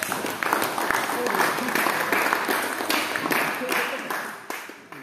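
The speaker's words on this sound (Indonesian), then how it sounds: "Tepuk tangan untuk Hafid." Applause from a classroom audience honoring a top-ranked student, steady dense clapping lasting throughout at moderate loudness with some voices mixed in.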